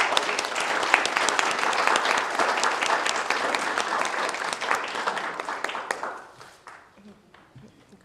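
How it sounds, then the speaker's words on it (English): An audience applauds new members at a gathering, a dense, steady wash of clapping that holds for about six seconds and then tapers off to a few scattered claps. "Would you join me now in giving an applause for our newest members?"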